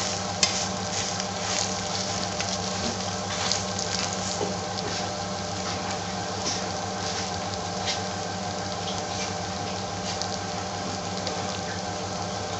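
An Indian omelette simmers in a pan with a soft, even sizzle and faint crackle that stays steady throughout, close by and with no voices.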